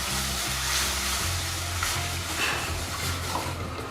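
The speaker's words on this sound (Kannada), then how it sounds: "ಹಾಲು ಹಾಕ್ತಾಯಿದ್ದೀನಿ." Milk poured into a pan of cashews and raisins fried in ghee for semiya payasa, a steady broadband hiss and sizzle with low bubbling, continuous and close with no talk.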